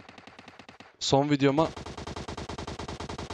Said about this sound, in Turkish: Çok silah sesi var.